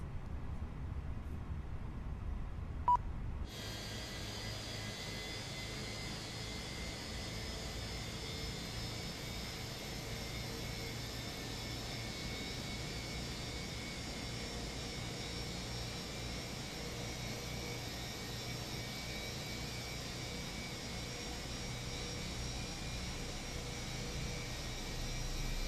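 Jet airliner engine spooling up during start in MSFS 2024, a steady broad whine and rumble that rises in after a few seconds of quiet and holds at a constant level, with no talk.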